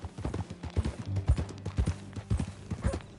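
Horse hooves clip-clopping in the Red Dead Redemption II video game, a steady, close rhythmic trot of sharp hoof strikes with a low ambient bed beneath.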